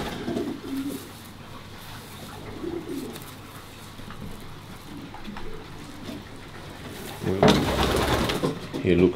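Racing pigeons coo softly and repeatedly inside a breeding loft, low murmuring calls scattered throughout, with a louder flutter or rustle near the end; someone talks at times.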